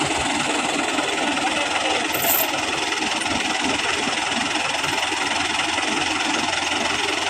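Tractor engine running in a field while stuck with a Suzuki Vitara pulling it, a continuous rough, knocking diesel rumble that stays steady and fairly loud throughout with no voices.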